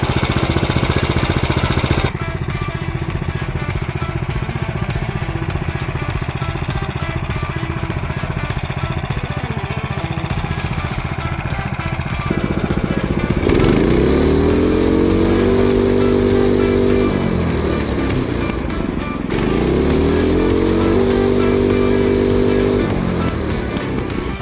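A riding lawn mower engine runs loudly through a stock motorcycle muffler, holding a steady idle before revving up twice in rising and falling sweeps, with no talk.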